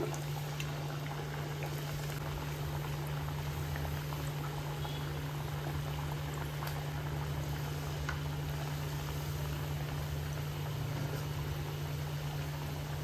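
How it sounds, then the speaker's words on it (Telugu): Appalu deep-fry in hot oil over a medium gas flame, giving a soft, continuous bubbling sizzle with a steady low hum beneath, faint and even throughout. "గ్యాస్ ఇలా మీడియం ఫ్లేమ్లో పెట్టేసి వేయించుకుంటే లోపల వరకు వేగుతాయి మనకి"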